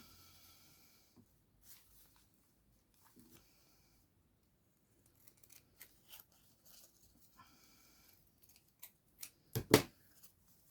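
Scissors cut paper in half for a junk journal: quiet sparse snips and rustles that build toward a cluster of louder cuts near the end, close and intimate, with no talking.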